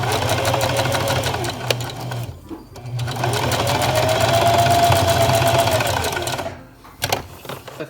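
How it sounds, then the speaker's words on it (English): A sewing machine straight-stitches a newborn onesie with a loud, steady motor whir and rapid needle rhythm, briefly pausing and changing speed before stopping with a few clicks. "then we are going to straight stitch"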